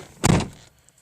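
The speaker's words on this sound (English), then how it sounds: "Close the door." A Mazda RX-8 car door swings shut with a single solid thunk, close and fairly loud, followed by quiet.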